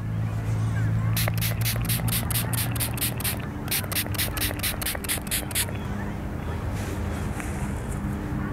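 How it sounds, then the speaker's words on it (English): Spray bottle misting gouache paint on a plein air palette, a quick series of about sixteen short, even hissing spritzes in two bursts, close by over steady outdoor background noise. "Let me spray everything down."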